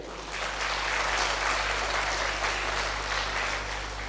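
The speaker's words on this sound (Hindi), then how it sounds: "तालियां अपने लिए।" Audience applause at a youth festival talk, a dense crowd clapping steadily and fairly loudly for a few seconds before easing slightly.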